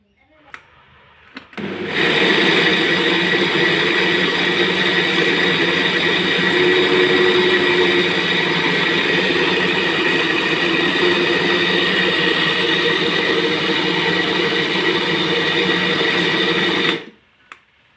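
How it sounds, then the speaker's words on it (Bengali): A mixer grinder grinds parboiled rice into flour for chakli pitha, a loud steady whirring drone that starts abruptly, runs unbroken for about fifteen seconds and cuts off sharply, with no talk over it. "আমি এখন মিক্সচার মেশিনে চালটা দিয়ে গুঁড়ো মানে বেটে নিচ্ছি"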